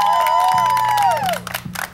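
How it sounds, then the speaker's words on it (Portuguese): Audience at a Brazilian variety show cheering and applauding with a loud whoop or whistle on top, close and lively, then thinning out. "Vamos dar uma salva de palmas para ele,"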